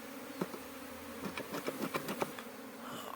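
Swarm of honeybees buzzing in the air after being smoked off their hive, a faint, steady hum with scattered louder passes of individual bees flying close by.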